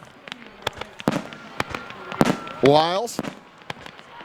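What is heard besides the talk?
fireworks going off at a high school football game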